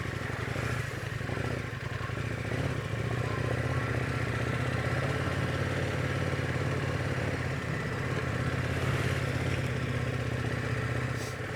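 Off-road motorcycle engine running steadily and loud throughout while riding an unpaved toll road in Norway, the rider working the clutch, with some clatter from the rough track and no talk.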